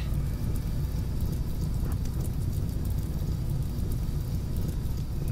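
Steady rain falling in the video game Rimworld, a dense, even hiss that holds at the same loudness throughout with no voices over it.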